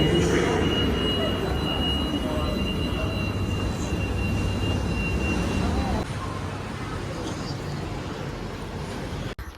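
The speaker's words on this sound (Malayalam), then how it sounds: "അപ്പോൾ ഇവിടെ നിന്ന് ടെർമിനൽ 2ലേക്ക് പോകണമെന്നുണ്ടെങ്കിൽ ട്രെയിനിന് പോകണം." A steady rumble from inside the airport train running between terminals at Kuala Lumpur airport, loud and continuous, easing slightly partway through.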